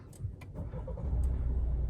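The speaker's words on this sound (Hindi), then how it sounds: "सुन लो भाई, बहुत ही एक ना स्मूथ साइलेंट, बहुत ही एक शांत इंजन है भाई" A Mahindra XUV700 AX5 with its 2.2-litre diesel engine idles quietly, a soft low hum that swells slightly halfway through, with a few faint clicks and taps on top.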